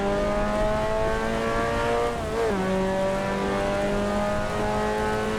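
Simulated car in the Assetto Corsa EVO racing game driving on a wet track in rain, a steady droning engine note with a brief dip and gear shift midway, continuous and close.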